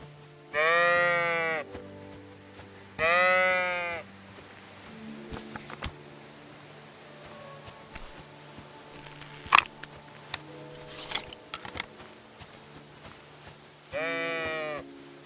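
A lost ram in Kingdom Come: Deliverance II bleats in two loud, wavering calls near the start and another at the end, with faint ambient game sounds and scattered clicks in between.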